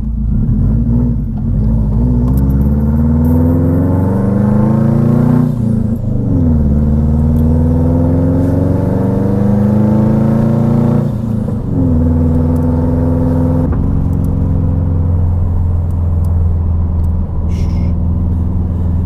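A Subaru WRX with its exhaust cutout open drives and revs loudly and close by, the engine note rising and falling in several pulls with a raw, rumbling drone throughout.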